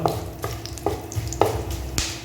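Chicken frying for restaurant-style kadai chicken spits and sizzles in a pan, with a steady crackle punctuated by several sharp scrapes and knocks of a spoon stirring, close up.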